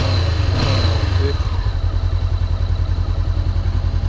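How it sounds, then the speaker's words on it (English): A motorcycle engine in neutral revs briefly, then settles into a steady, chugging idle with a rhythmic low pulse, close by. "You can rev the engine"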